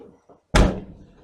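The door of a 1981 GMC C10 square-body pickup truck swings shut with one loud, heavy metallic slam and a short rattling decay, heard close and alone.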